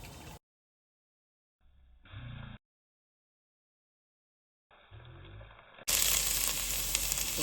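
Spices roast in a hot pan on medium heat for a chicken and mushroom curry, sizzling in short bursts separated by silence, then a loud, steady crackling sizzle at the end.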